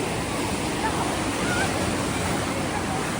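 Rushing water and splashes along the Calico River Rapids ride, a dense continuous wash of spray and churning current, loud and close throughout.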